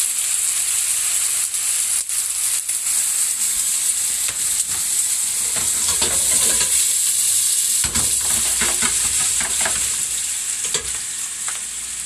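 Garlic frying in a pan with a loud, steady sizzle that runs throughout, broken by occasional light stirring clicks and scrapes.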